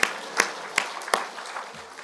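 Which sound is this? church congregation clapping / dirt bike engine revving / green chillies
church congregation clapping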